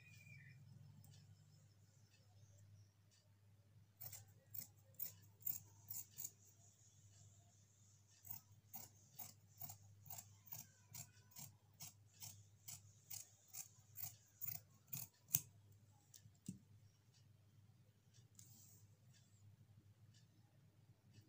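Scissors cut through fabric for a coat collar on a kurti or suit, a run of crisp, evenly spaced snips in two bursts, close and fairly faint over a low steady hum, with no talking.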